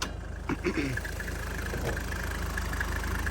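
A Toyota Land Cruiser 105 series with a 1HZ diesel engine idles steadily, a close, even rumble with light diesel knock, briefly overlapped by a voice.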